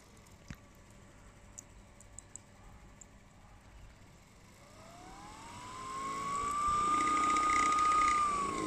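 A 3D-printed 12 V centrifugal water pump spinning up, a faint hum with a few clicks, then a whine climbing in pitch and loudness to a steady high-speed tone.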